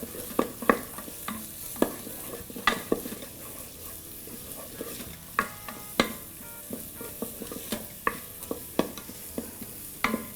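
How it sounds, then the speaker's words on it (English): Onions, ginger and garlic sautéing in a preheated electric pressure cooker pot, a soft sizzle punctuated by frequent sharp spoon scrapes and taps against the inner pot, close and fairly quiet. "Notice because we preheated the pressure cooker, the onions are getting cooked much faster"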